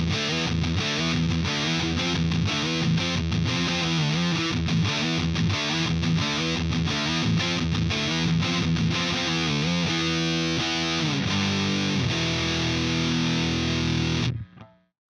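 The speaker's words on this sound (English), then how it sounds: "The 85 M2 lead is based on the Mesa Boogie Mark II, another great one for hard rock tones." Distorted electric guitar through a Mesa Boogie Mark II amp model in a hard rock lead tone, playing continuous riffs and sustained notes before cutting off abruptly near the end.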